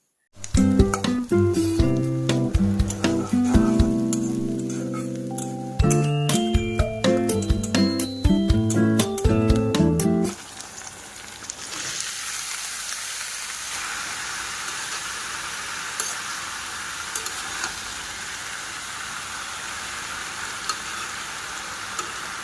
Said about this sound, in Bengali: কড়াই বসিয়ে দিয়েছি পেঁয়াজ কাঁচামরিচ দিয়ে এখন বেগুনটা ভাজি করে নিব